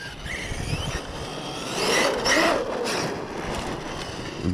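Traxxas X-Maxx RC car driving outdoors on a hot day, its electric motor whining and rising in pitch as it speeds up, with gritty broadband rumble from tires over rough ground throughout.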